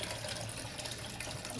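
Water pours into a mixture of yogurt for lassi, a steady, close splashing rush that continues unbroken for the whole moment.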